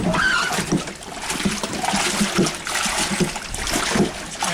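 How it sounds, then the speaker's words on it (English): Water sloshes and swishes back and forth inside a galvanized metal dasher washer tub while laundry is rinsed. The sound is a continuous, close wash of surging wet noise with rhythmic waves rolling through it. "Notice you get a certain wave going through your water"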